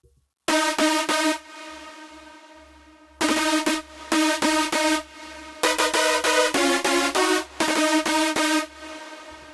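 Big room psytrance build in FL Studio with sidechain reverb across layered synth stabs and a kick, loud rhythmic chopped chords in bursts with short gaps and a pumping low thump underneath, no voices.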